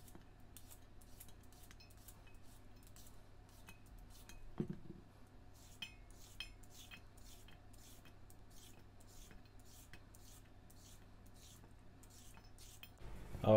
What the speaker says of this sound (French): on commence par éplucher nos concombres